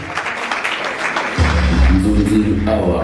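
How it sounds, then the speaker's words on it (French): At the Nzonzing Awards ceremony in the Hotel Memling, an audience applauds two artists with a broad wash of clapping, then a voice and tonal sound take over partway through. "Est-ce qu'on peut applaudir pour nos deux artistes une fois de plus?"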